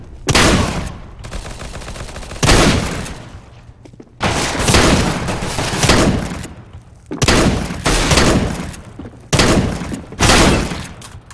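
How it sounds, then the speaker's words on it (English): Flashbang and other explosive bursts in Counter-Strike: Global Offensive on the Inferno map, five loud sharp blasts in a rough rhythm, each trailing into a ringing, noisy decay. "Flashbang."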